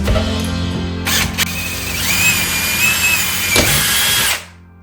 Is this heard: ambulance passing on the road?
no